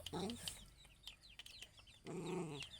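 Chickens cluck and squawk close by in short bursts, with faint chatter in the background.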